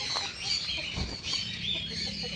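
Rhode Island Red chickens clucking nearby in short, irregular bursts, with a brief rustle of wings or movement in the middle.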